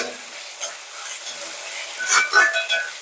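Tomatoes fry with ginger and garlic in a pan, giving a steady hiss and sizzle with stirring scrapes, then a few louder clinks of the utensil against the pan near the end.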